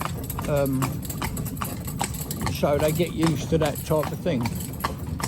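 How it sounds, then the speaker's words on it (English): Steady clip-clop of a horse's hooves trotting unevenly on a hard road, continuing under someone talking nearby. "So I'm just letting her jig-jog along here now like this"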